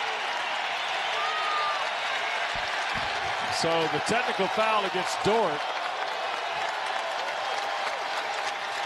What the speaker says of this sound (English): And the crowd applauding the career high.